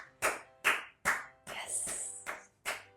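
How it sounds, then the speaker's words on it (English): Single person clapping slowly and firmly, six separate close claps at an even pace, with a brief spoken exclamation between them. "I'm still clapping, I know, because this was amazing"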